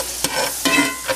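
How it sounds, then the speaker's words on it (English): Butter sizzles in a hot pan with browned garlic, a steady close frying hiss broken by a few soft stirring scrapes. "So you put in another tablespoon of butter."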